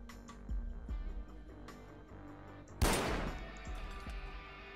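A single loud, sharp gunshot in the video game Far Cry 4 cracks out midway, preceded by a few soft clicks and thuds against a quiet background.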